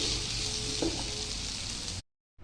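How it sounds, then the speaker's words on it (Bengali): Fried potatoes and squash crackle and hiss in oil, a close, even sizzle with a brief stir scrape partway through before it cuts to silence near the end. "আলু আর কোয়াশগুলো পারফেক্টলি ফ্রাই হয়ে গেছে।"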